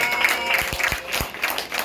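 Brief round of applause at a Brooklyn canvass launch rally for an assembly member, scattered claps and a crowd murmur, fairly close, lasting under two seconds.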